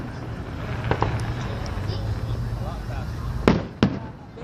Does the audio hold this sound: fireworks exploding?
yes